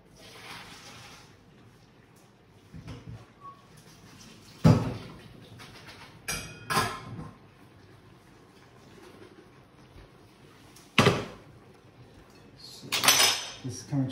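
Pots and pans knocked and handled in a kitchen while pasta is drained for Zurich ragout, a few sharp metallic clanks and clatters spaced out over quiet background, with a voice talking.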